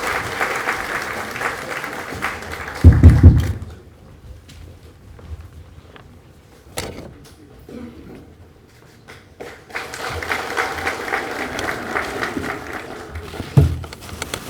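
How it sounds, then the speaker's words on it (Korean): An audience at a Korean political party's joint meeting of regional and local councillors claps in a strong burst at the start. The clapping fades to a quiet lull, then swells again into sustained applause near the end. "뜨거운 박수로 감사하고 모셔주기 바랍니다."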